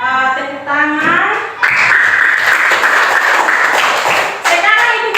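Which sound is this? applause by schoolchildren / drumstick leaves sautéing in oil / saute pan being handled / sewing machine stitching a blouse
applause by schoolchildren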